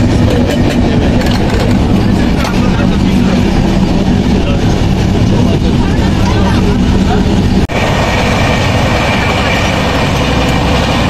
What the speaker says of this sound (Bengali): ট্রেন জার্নি উপভোগ করছিস?